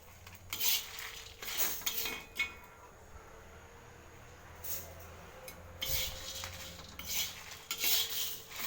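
Spices being sautéed in a pan until golden brown while preparing puri and field-bean palya, heard as intermittent clinks and scrapes of a utensil against the pan over a low, steady background.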